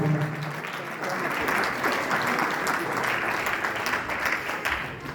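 Congregation in a church applauding the bishop, a dense, steady wash of clapping hands that holds for about five seconds at even loudness.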